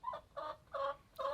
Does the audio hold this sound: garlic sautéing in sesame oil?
no